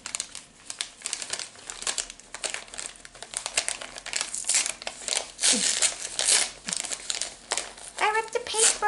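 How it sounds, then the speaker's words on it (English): Wrapping paper on a Harry Potter Geek Gear subscription box is torn and crumpled open in repeated rustling, crinkling bursts close by, with a voice talking intermittently over the paper noise. "I ripped the paper."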